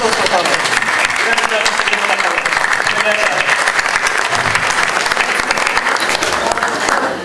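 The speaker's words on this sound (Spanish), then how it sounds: "Aplausos, por favor." An audience claps loudly at a panel on culinary traditions and gastronomy, dense continuous applause lasting several seconds without a break and drowning out everything else.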